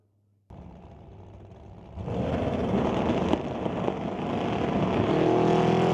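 Drag race cars, a Ford Falcon among them, roar down a quarter-mile strip in a Pro Bracket final, a loud engine drone that builds from silence and swells steadily as the cars run, without talk.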